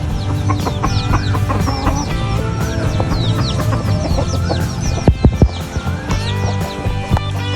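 Chickens, including chicks, clucking and scurrying around in an animal enclosure, with busy overlapping calls and scratchy movement close by and a few sharp thumps.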